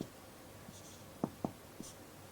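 A pen or pencil writes on paper: a few faint, separate scratchy taps and strokes spread out against a quiet background, with no voices.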